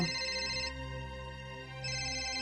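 A mobile phone ringtone plays a steady, sustained electronic melody indoors, its tone shifting partway through and then returning.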